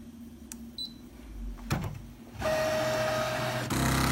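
A Brother ScanNCut DX cutting machine with an adjustable blade starts cutting a design, with a few clicks and a short whir before a steady motorized hum and a sustained tone set in, fairly close and with no talking.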